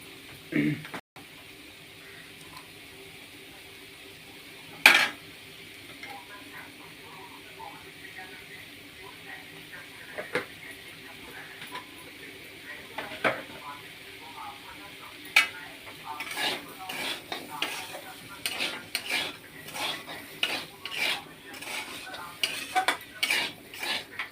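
Spices and salt being sautéed and stirred in a pan for a Bengali home-cooked dish: a soft sizzle runs throughout while a spoon scrapes and clinks against the pan, the stirring growing busier toward the end, with a voice speaking over it.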